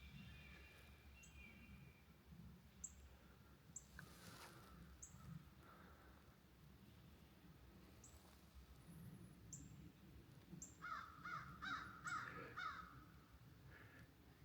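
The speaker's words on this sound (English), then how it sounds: "Crow's just holding court up at the top of that tree." Crow cawing from the top of a tree at a nature preserve on a morning walk, a run of several harsh caws late in the stretch over steady outdoor background noise, with fainter calls scattered earlier.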